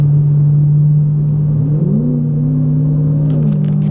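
A Corvette engine drones loudly nearby during a street race, with its low steady rumble rising in pitch briefly as it revs, then settling back.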